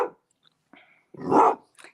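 A dog barks once, loud and close, after a few faint yips and whimpers, with no talking.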